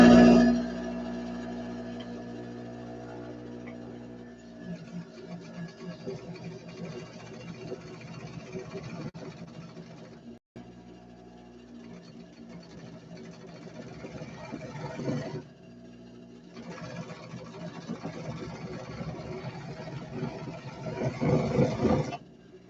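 A sewing machine motor runs steadily with a humming drone, pausing briefly midway and again near the end before starting back up.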